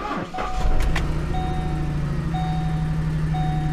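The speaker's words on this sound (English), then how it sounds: "All right, let's crank this thing. All right, it's gonna sound pretty bad." A misfiring car engine is cranked and catches, then settles into a rough, steady idle close by, while a vehicle's electronic chime beeps at regular intervals over it.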